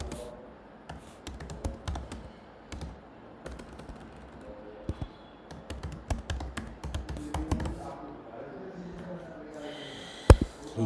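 Keys clatter on a computer keyboard while lab test details are entered, a steady stream of close, crisp taps with irregular bursts and a few louder strikes, over a low background hum.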